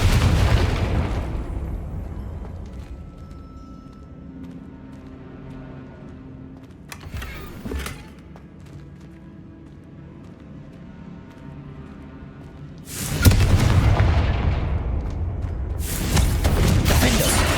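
In the Hogwarts Legacy video game, fire spells are cast and burst into loud, booming explosions. One sharp blast opens the passage, a short pop follows in the middle, and a heavy roaring burst comes near the end.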